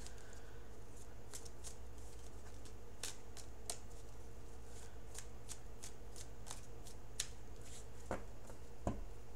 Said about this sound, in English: I'm cutting the cards now